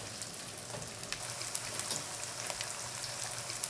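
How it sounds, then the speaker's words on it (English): Battered mushrooms refry in oil heated to 330°F, giving a steady dense sizzle with crackling pops, close and continuous, with no talk. "I'm going to refry."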